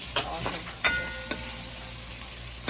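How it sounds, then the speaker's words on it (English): Garlic frying with saltfish in a pan, a steady close sizzle and hiss with a few brief clicks of stirring. "Add the garlic now to cook with the saltfish."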